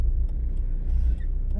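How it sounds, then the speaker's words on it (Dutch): A red car passes by on the road, a loud low rumble close at hand that swells and then eases slightly, with a few faint higher sounds over it and no voices. "Een rode auto."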